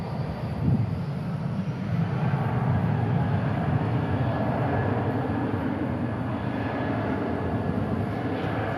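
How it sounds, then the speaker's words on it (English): A Viva Aerobus jet in special livery takes off from Dallas/Fort Worth International Airport bound for León, Mexico, producing a steady broadband engine roar heard from some distance. "This is Viva Aerobus Special Livery taking off to Leon, Mexico."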